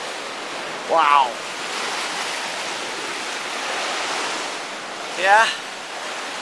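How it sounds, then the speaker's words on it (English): Waves crashing against boulders on the Lake Superior shore, a steady broadband surf roar that swells and recedes, with two short exclamations from a person standing nearby. "We got the waves coming, just crashing here, shooting it up."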